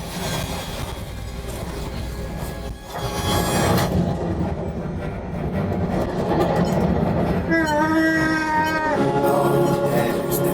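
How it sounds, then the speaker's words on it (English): Ride-simulator train rumbling and clattering past aboard the Millennium Falcon: Smugglers Run attraction at Disneyland, a loud sustained mechanical roar with rising whine, mixed with soundtrack effects and no clear talk. "Oh, there's the train."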